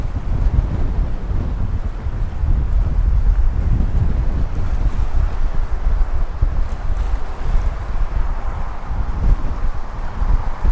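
Strong wind buffets the microphone on the River Humber shore, a loud, constant roaring rush with gusty low-end rumble throughout, no voices.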